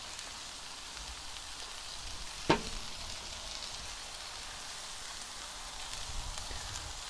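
Cauliflower rice frying in a pan for a beef and shrimp stir fry, a steady soft sizzle that continues throughout, with one sharp clink near the start.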